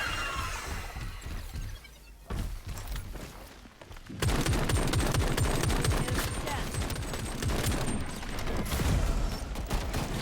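A pistol in the Shatterline video game fires in rapid bursts, with each shot following a click in a quick tapping rhythm. The shots are loud and dense, drop briefly, then resume as a sustained volley.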